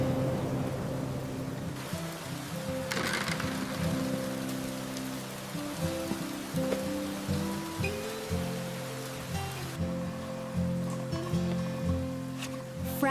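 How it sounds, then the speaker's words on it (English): Rain begins to fall in a quiet countryside harvest scene, a steady soft patter on surfaces spread beneath a sustained low musical backdrop. "The rain is starting."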